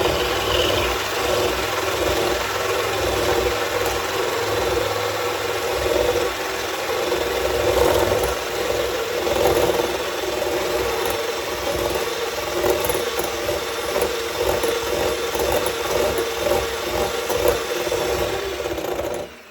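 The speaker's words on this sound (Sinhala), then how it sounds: "දැන් මම මේ බිත්තර සුදු මද ටික පොඩ්ඩක් විතර බීට් කරනවා." Electric mixer beating egg whites for a coconut cake, a steady whirring motor with a rattling, rasping texture that runs continuously and close up for the whole stretch, with no talking.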